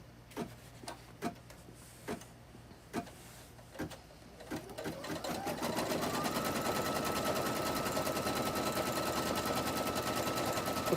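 Several sharp, spaced taps come first, then an embroidery machine starts stitching a placement line on fabric for a wall hanging, building into a steady, rapid mechanical chatter that runs to the end.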